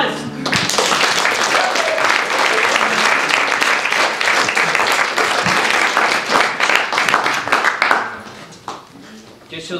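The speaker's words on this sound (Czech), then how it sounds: "Potlesk." A theatre audience at an improv show applauds in a loud, dense round of clapping close by that runs most of the way before tapering off near the end, with some voices mixed in.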